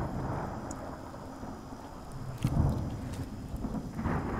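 Rain and thunder in the video game Smalland Survive the Wilds: a steady hiss of rainfall with a soft rolling rumble of thunder swelling midway, all fairly faint and with no voices.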